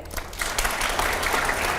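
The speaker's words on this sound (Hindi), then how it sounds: "तालियां नहीं रुकनी चाहिए।" Steady applause from a crowd, sustained and fairly loud throughout with no voices over it.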